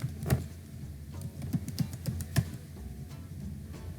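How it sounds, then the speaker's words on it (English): Password typed on a computer keyboard during a Linux CentOS 7 installation: a quick series of soft, close key taps with uneven rhythm, alone in a quiet room. "Type your desired password here."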